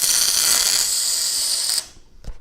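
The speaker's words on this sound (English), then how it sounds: "I'm going to put a small weld on this side of it" A small weld on a steel saddle: a loud, steady buzzing crackle of the welding arc runs for almost two seconds, then cuts off abruptly, leaving a brief metallic clink and quiet room tone.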